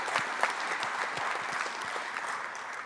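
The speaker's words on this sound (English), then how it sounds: "Let's give them a big round of applause," Sustained audience applause at a medical graduation ceremony, steady dense clapping from a large indoor crowd throughout, fairly even in loudness with no voices on top.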